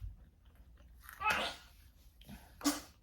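A woman sneezes once, faint and close, with a second soft burst of breath or sound a moment later in a quiet room.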